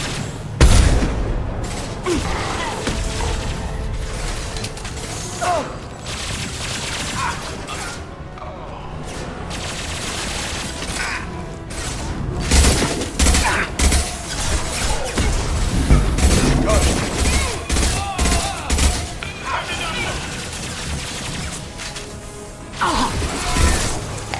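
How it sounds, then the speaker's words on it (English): Mass Effect 2 combat: repeated gunshots and heavy booms as a loosened fuel tank is shot down, followed by crashing, smashing impacts, all loud and close over a steady rumbling background. "That fuel tank's coming loose! Shoot it! Bring it down on top of him!"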